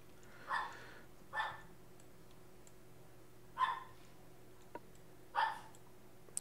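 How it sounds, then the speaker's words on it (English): Dogs bark at a distance indoors, four separate muffled barks spaced irregularly over a faint steady electrical hum. "there's my dogs are going nuts for some reason"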